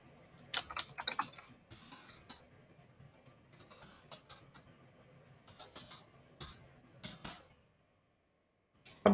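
Typing on a computer keyboard while editing WordPress page text, with quick irregular bursts of close key clicks separated by short pauses, ending in one sharp tap.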